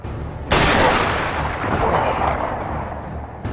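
Gunfire in a television crime drama reenactment, a loud sudden burst that hits hard, then a rumbling blast and echo that hold for about three seconds.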